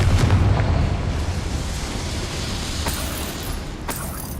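The Confringo explosive spell goes off in Hogwarts Legacy, a heavy, dense blast that settles into a sustained roaring rumble, loud and steady throughout, with no voice present.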